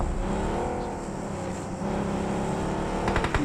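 A car engine in a video game hums steadily with layered tones, building slightly toward a throatier rev near the end.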